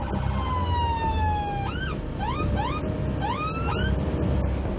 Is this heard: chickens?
no